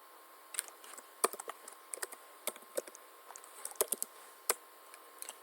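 Code is typed on a computer keyboard in short irregular bursts of crisp clicks and key taps, close and fairly quiet, with brief pauses between keystrokes and no voices.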